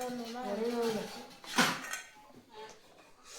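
Chicken eggs set quickly into a container for a brooding hen give a single sharp clink midway, following a stretch of talking, with quieter handling afterward.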